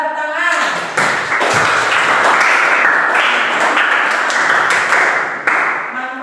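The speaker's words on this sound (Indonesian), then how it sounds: "Ya, pintar, tepuk tangan." Classroom students clap their hands together in a dense, continuous burst of applause that stays loud and close for several seconds, with brief breaks in between.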